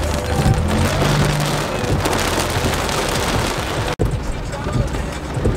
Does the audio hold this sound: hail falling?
yes